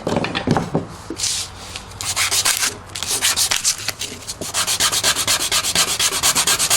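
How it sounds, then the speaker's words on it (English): Rhythmic back-and-forth rasping of sandpaper on a wooden stool leg tenon, loud and close, with strokes growing faster and more regular toward the end. "So I'll just give that a sanding."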